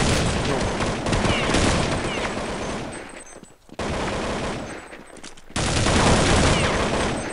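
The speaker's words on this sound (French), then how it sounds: "je te tire une rafale à bout portant" Dense automatic gunfire bursts in a Counter-Strike Nexon Zombies gun deathmatch, loud and near, rattling almost continuously with two short lulls before the firing resumes.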